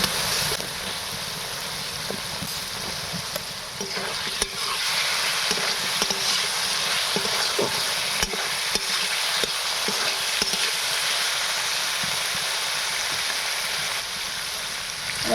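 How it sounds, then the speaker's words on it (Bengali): Fried potatoes stirred into spice masala frying in a pan for a spicy Bengali puti fish curry with aubergine and potato, giving a steady close sizzle with scraping stirs and small clatters throughout. "এবার আমি এখানে ভাজা আলুটা দিয়ে দিলাম"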